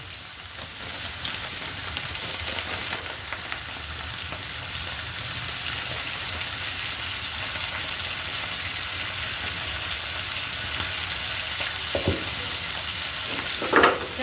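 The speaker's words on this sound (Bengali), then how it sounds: "আমি চ্যাপা শুটকিগুলো দিয়ে দিলাম তেলের মধ্যে" Chapa shutki, dried fish, frying in oil with turmeric and salt gives a steady close sizzle throughout, with a couple of brief louder pops or clatters near the end.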